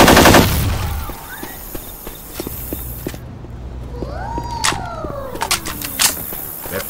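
Rifle fire in the video game Left 4 Dead 2: a short burst of sharp gunshots at the start, then scattered single shots and in-game effects among footstep-like clicks.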